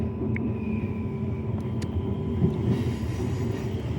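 A Brisbane suburban train runs along the Sunshine Coast Line with a steady, loud rumble of wheels and carriage, a faint high squeal drifting over it and a couple of brief clicks. No one speaks.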